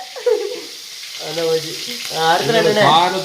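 Chili peppers frying in hot oil at the start of an egg dish, a steady close sizzle running under a person talking throughout.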